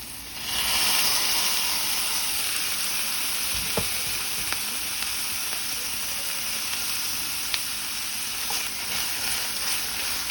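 A medium onion and a capsicum sautéing in a kadai, giving a steady, close, even sizzle and hiss with a few faint utensil taps, and no talking.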